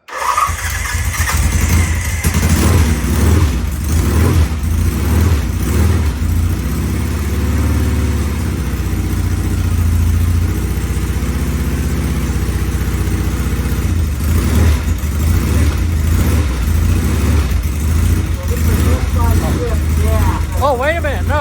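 A Norton motorcycle engine warming up runs loud and close throughout, a rough steady idle with uneven pulses and occasional revs, while people talk over it.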